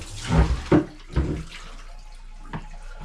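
Water splashing and gurgling in short bursts as a Big Blue 20-inch well-water filter canister is emptied in a bathroom, a few close pours followed by quieter dribbles.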